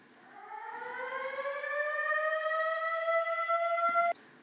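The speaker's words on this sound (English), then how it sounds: "so for FX, right in the beginning, this is alarm sound from the Cashmere pack." An alarm sound effect from the Cashmere sample pack rises in pitch and then holds, a siren-like wail swelling for about four seconds before cutting off abruptly, alone.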